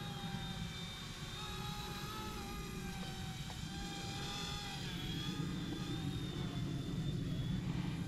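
Small Eachine E120 RC helicopter lifting off and flying nearby, a steady high-pitched motor and rotor whine with tonal harmonics holding at an even level throughout, mixed with some outdoor rumble.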